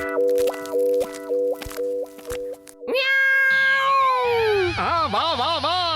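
A Motu Patlu Tamil cartoon cat lets out a loud, drawn-out, wavering meow and caterwaul that follows a quick run of plopping cartoon effects.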